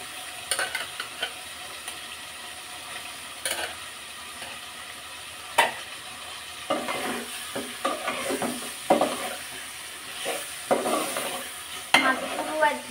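Fish pieces added to a spice masala and stirred as they fry in a pan for a Bengali-style curry: continuous sizzle punctuated by repeated scraping stirs and clanks, close and fairly loud, with no talking.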